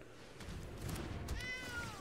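A cat meow sound effect from the video game Magic the Gathering Arena, a single drawn-out, falling meow following a soft thump, clear and close without talk.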